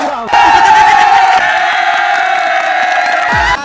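A live audience at a shayari contest during a nautanki stage program erupts in loud, sustained cheering and clapping that fills roughly three seconds before cutting off.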